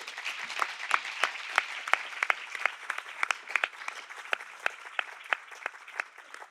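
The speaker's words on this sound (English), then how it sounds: "if you will give them a quick round of applause" An audience at an academic roundtable applauds the panelists, a steady wash of many hands clapping with frequent sharp individual claps, moderately distant and unbroken throughout.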